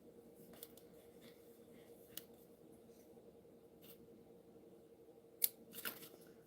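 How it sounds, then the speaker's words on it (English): Scissors trimming cardstock for a Christmas card, faint quiet snips and paper rustles over low background hum, with a sharper cut near the end. "get my scissors, and we'll trim trim like so"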